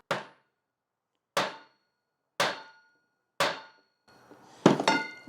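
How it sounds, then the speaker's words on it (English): A hammer strikes a metal nut into pine wood in four evenly spaced sharp knocks, followed by a closer burst of quicker ringing metallic taps, all clear and close. "just hit the nut with a hammer"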